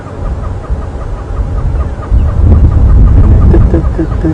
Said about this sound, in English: And the noise is a hornbill.